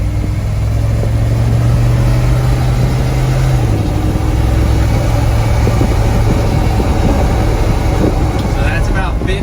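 HEMI-powered Jeep Scrambler accelerating off road, a deep engine rumble steady under rough wind and road noise, with someone talking over it.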